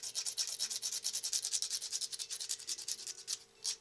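Rapid rhythmic rasping as an artificial tooth bridge from a do-it-yourself kit is sanded and filed to shape. The strokes are close, steady and fairly quiet, with no talk.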